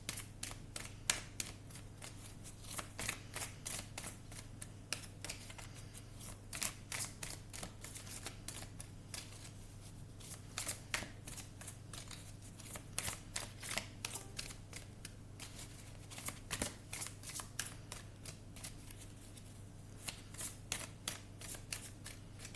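Tarot cards being shuffled and drawn, a dense run of crisp flicking and riffling clicks repeating steadily close up, over a low constant hum with no talk.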